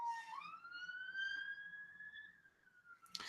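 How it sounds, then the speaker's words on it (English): A passing police car siren wails in one long rising and then falling tone with faint harmonics, moderately distant and fading, ending in a brief sharp noise burst, with no talk over it. "Police car is going bloody past right now"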